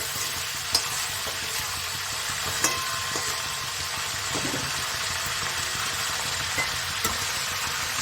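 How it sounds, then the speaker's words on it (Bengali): Cinnamon sticks, cloves and cardamom fry in oil for chicken curry, a steady hissing sizzle with a few sharp pops and clicks scattered through it. "ওই তেলের মধ্যে একটু ভেজে নেব"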